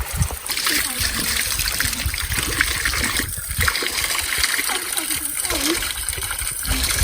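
Cold water runs steadily from an outdoor tap spout in hot weather, a continuous splashing trickle lasting throughout, with voices talking over it.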